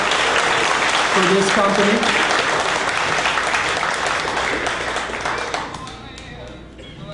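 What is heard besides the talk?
audience applause at a company event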